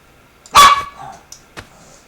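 A small puppy gives one sharp, loud yip-like bark followed by a couple of quieter short yelps, close by with no talk.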